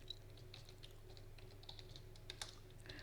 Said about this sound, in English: and then I'll just type in my text